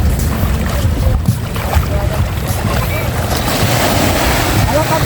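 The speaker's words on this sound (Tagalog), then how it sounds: "Sakay na tayo ng bangka." Boat ride on the open sea among the Caramoan Islands, with steady engine and water rumble, wind buffeting the microphone and waves slapping throughout, continuous and close.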